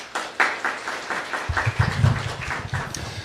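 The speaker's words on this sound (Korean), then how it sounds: "큰 박수로 환영해 주시기 바랍니다" A modest audience at a Korean public forum on the safety of hazardous substances in feminine hygiene products gives scattered, rhythmic applause to welcome a university professor; a low hum rises underneath partway through.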